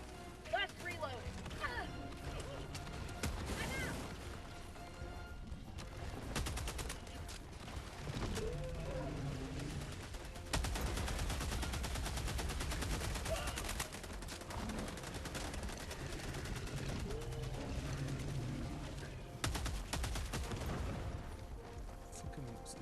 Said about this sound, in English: They're shooting mortars at you.